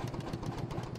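Vintage Lanz D6009A tractor, with a 7.3-litre single-cylinder engine, idling in Farming Simulator 22, giving a loud, close, steady thumping pulse with a slightly uneven beat.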